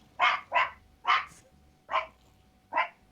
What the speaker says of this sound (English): These dogs are barking at nothing.